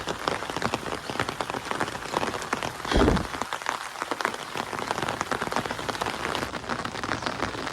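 Rain falling steadily on surfaces, a dense continuous patter of drops at moderate loudness with a brief louder gust midway, no talk.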